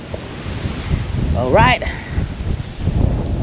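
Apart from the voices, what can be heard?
wind blowing outdoors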